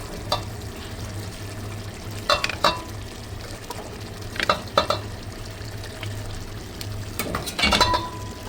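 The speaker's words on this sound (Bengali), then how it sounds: "চিকেনগুলো দিয়ে দিচ্ছি, ভাজা চিকেন।" Fried chicken pieces tipped into a pan of hot, spicy masala, giving a steady sizzle with several louder bursts of clattering and stirring spread through the clip, close by and with no talking.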